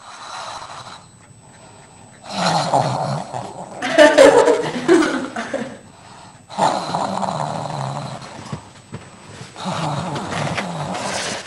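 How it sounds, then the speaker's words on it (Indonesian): A person snoring while asleep in a shared bed, loud rasping snores in long repeated bursts separated by quiet pauses, with laughter mixed in. "Ngorok lu kecilin, kenapa?"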